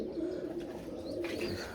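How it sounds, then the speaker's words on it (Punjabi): Domestic pigeons perched together coo softly and continuously, a faint low rolling murmur with no voices. "ਆਪਣੇ ਬੈਠੇ ਨੇ ਕਬੂਤਰ ਸਾਰੇ"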